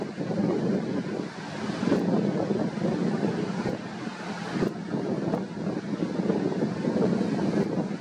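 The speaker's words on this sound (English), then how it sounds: "Wind's blowing a gale." Gale-force wind buffets the microphone in strong, continuous rumbling gusts, loud and unbroken, with sea noise beneath it near a vehicle carrier ship and no voices.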